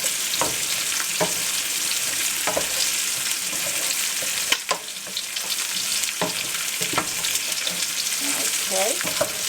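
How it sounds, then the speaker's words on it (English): Flour cooks in a pot for chicken corn chowder, a continuous soft sizzle broken by repeated scraping stirs of a utensil, close and fairly loud, with no voices. "Now you want to cook the flour for at least 1 to 2 minutes, just to get out that raw flour taste."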